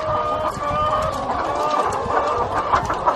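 A flock of laying hens clucks continuously and densely, loud and close, in a steady chorus while drinking water is filled for them by hose.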